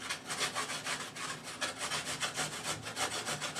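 A carrot's skin is scraped with a blade in quick, steady back-and-forth strokes, a close, dry rasping repeated evenly throughout.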